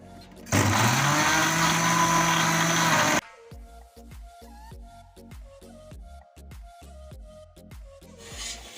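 Electric grinder whirs loudly for about three seconds while blending green chillies and garlic with water, then cuts off, leaving quieter kitchen clatter and knocks.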